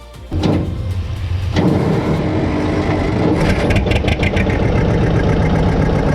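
John Deere 830 Special, a tractor fitted with three engines and weighing nearly 10 tonnes, runs with a loud, steady rumbling engine note that surges and holds continuously, with some clattering on top.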